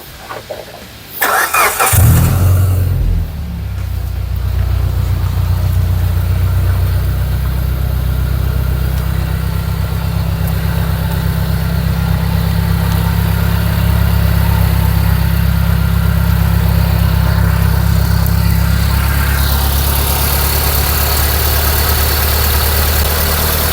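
A Mitsubishi 1.6-litre car engine cranks and catches after a brief burst, then settles into a steady, low, rumbling idle that continues close by without pause.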